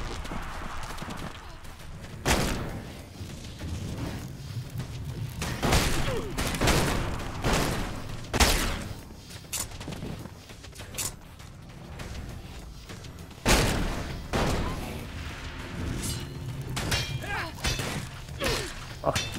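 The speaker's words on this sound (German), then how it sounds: "schießt noch immer mit seiner Waffe rum" Enemy weapon fire in Elex 2 during a battle, with repeated sharp bursts and thumps at irregular intervals mixed with game effects and a voice talking over them.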